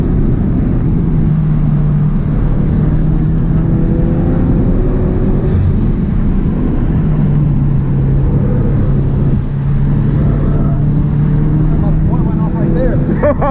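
A turbocharged Toyota GT86 show car on air suspension pulls hard in fourth gear with a loud, steady engine drone and high whistling sweeps over it, while a voice is faintly present.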